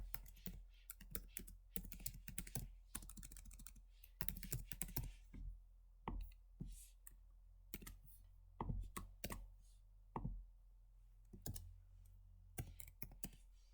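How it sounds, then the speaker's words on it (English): Keys clack on a computer keyboard while an email address is entered into a school portal login, quick bursts of close, crisp taps with short pauses between groups. "So I'm going to put it in as my school email."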